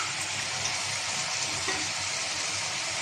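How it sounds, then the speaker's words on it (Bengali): Spice paste sautés in a hot pan with a dense, continuous sizzle and frying hiss, close and steady throughout, with no talk. "মশলাটা কষানো হয়ে আসছে"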